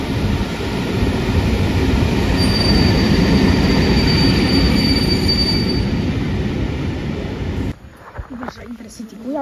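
Trains at Lublin Główny station, with diesel locomotives about: a loud, steady rumble of rolling railcars with a high wheel squeal, ending abruptly near the close, where a person talks.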